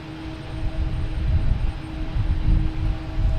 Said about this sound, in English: Next takeoff is Delta, E175, heading to Pittsburgh.